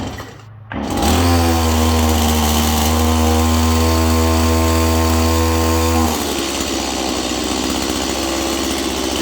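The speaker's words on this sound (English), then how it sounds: "Click the button, let it go into low idle. Let her sit and warm up." A Stihl chainsaw starts and runs at a steady, loud idle with a droning buzz, then drops to a lower, rougher idle for the last few seconds.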